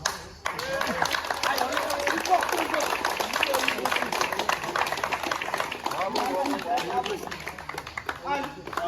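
Sustained, fairly loud clapping from an audience at a tournament, continuous throughout with speech and chatter mixed in.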